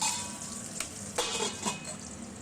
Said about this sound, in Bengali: মাছের ডিমটাকে বেশ উল্টে পাল্টে আমি ঢাকা দিয়ে খুব ভালোভাবে ভেজে নেব